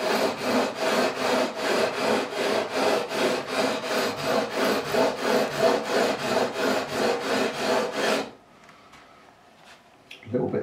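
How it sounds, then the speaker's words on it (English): 400 grit abrasive is rubbed back and forth over the frets of a Fender Standard Stratocaster in a steady run of quick, even strokes, close and loud, stopping at about eight seconds before a couple of faint clicks. "I'm going to be now using the 400 grit side, clean that up, and all being well, we should just go in a few strokes"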